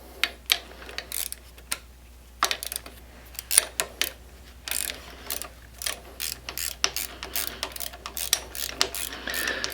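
A hand ratchet clicks rapidly in short bursts as a bolt is driven back in on the aluminum lever mount of a BMW F800GS motorcycle, close and metallic, with pauses between runs and no voices.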